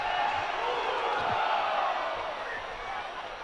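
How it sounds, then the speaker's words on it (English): Stadium crowd at a Sacramento Republic FC versus LA Galaxy II soccer match, a broad continuous roar of cheering voices with a few thuds, loud and sustained, while a commentator talks over it. "This crowd is really into it now."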